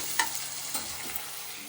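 Chopped onions frying and being stirred in a pan while a Telugu-style gonguura prawn curry is started, giving a quiet steady sizzle with a few soft scrapes of the spoon.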